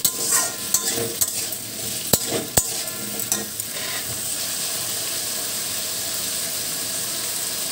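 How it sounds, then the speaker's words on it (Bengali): Curry being stirred in a pan after salt goes in, a constant loud sizzle broken by a few sharp scrapes and clinks of the spoon in the first seconds, no talk. "চলো এটা নুন দিয়ে ভালো করে বানাতে আমি নেড়ে নেবো এটাকে"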